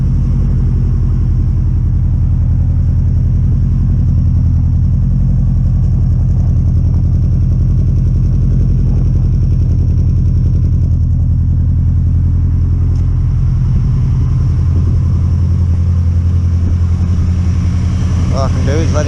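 A Subaru Impreza STI Type R GC8 idles just after a new MAF sensor is fitted, with a loud, steady, low engine rumble that runs unbroken throughout. Faint voices are mixed in under it.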